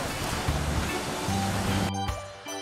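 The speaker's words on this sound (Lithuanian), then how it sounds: "Vanduo netgi trykšta iš žemės gelmių" A geyser's column of water bursts up out of the ground with a loud, steady rushing gush that cuts off abruptly near the end.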